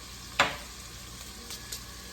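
Garlic with thyme leaves frying in a pot for seafood chowder, a soft steady sizzle with one brief louder hiss and a couple of faint stir clicks, close and with no talking.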